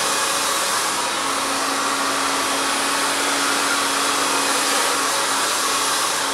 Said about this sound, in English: you'll notice that that blow dryer just swerves around the hair as we move down that hair strand